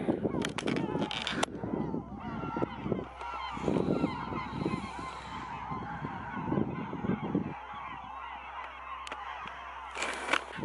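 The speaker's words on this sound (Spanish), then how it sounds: "No sé si había escuchado los gritos de las gaviotas" Loud honking seagull calls come in bursts, harsh and close, with quieter stretches of background noise between the cries.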